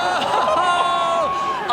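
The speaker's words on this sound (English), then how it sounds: "Listen to that reaction from all the fans over here to our left." Crowd of fans at an X Games Aspen ski event, a steady roar of cheering and shouting from many voices.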